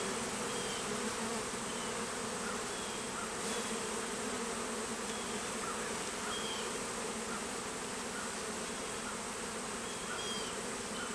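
A dense, steady drone of many honeybees buzzing around an open beehive with exposed brood frames, continuous and close throughout with no talk.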